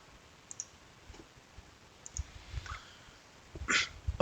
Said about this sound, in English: you right click